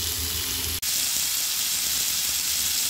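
Chana dal frying in a covered pan, a dense continuous sizzling hiss that cuts off for an instant early on and then resumes just as steady.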